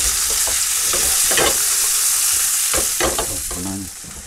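Pork frying in sunflower oil, sizzling steadily with bursts of crackle and spitting as the pieces are stirred and moved around the pan, close up and with no talk.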